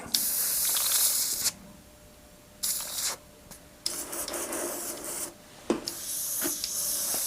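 An airbrush spraying black paint poorly hisses in uneven bursts, sputtering on and off with brief pauses between sprays, close and fairly loud.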